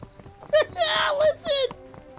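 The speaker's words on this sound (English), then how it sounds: "They clop! Listen, they're clopping! That's clopping! They have hooves confirmed!" Hooves clop in short bursts in the horse-girl racing game Uma Musume: Pretty Derby while an excited voice talks over the clatter.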